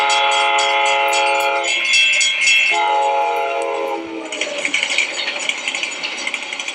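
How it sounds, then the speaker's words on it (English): A train rumbles past close by while its horn blares in long, loud blasts that shift in pitch, then fade into rattling wheels and clatter. "you can hear that train as it goes past us"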